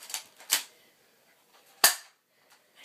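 Toy cap gun fired in a mock courtroom skit: three sharp, loud cracks, two close together at the start and one more after a pause, with a faint pop near the end.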